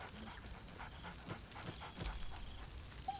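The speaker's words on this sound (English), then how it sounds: "Scratch barks merrily in something like agreement." A dog in a video game pants in quick, rhythmic breaths at close range, with faint whimpering hints and no clear barks or voices.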